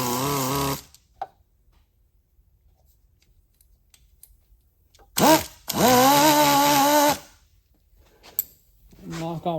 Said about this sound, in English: Now I'm gonna get my little flapper and see if I can flap it a little.